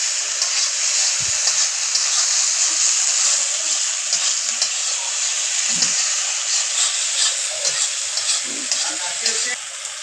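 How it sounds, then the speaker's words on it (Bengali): Fried potatoes stirred into a spice masala in a pan for a tilapia fish curry give a steady, close sizzle with scraping stirs and occasional soft knocks throughout. "এখন আমি ভেজে রাখা আলুগুলো এর সাথে অ্যাড করে দিচ্ছি আলুগুলো দেওয়ার পর আবার আমি এইভাবে কষাতে থাকবো"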